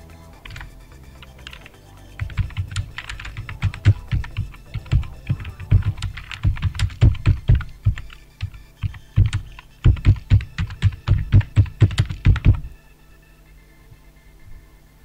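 Keys clatter on a computer keyboard in quick, uneven bursts of clicks, close and clear, while text is typed for a certificate design, with a pause before the final flurry of strokes.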